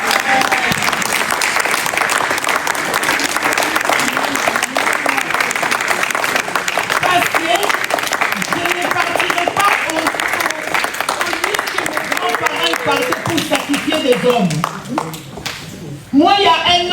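Congregation at a Sunday church service clapping in acclamation, a loud, sustained wall of applause mixed with voices and cheering, fading briefly near the end before rising again.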